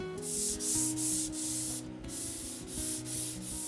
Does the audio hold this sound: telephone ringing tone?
no